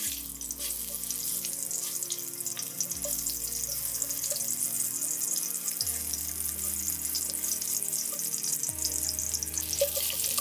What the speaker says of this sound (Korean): 먼저 팬에 올리브 오일을 두르고 마늘을 볶아줍니다.